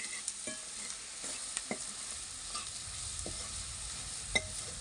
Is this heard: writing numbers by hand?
no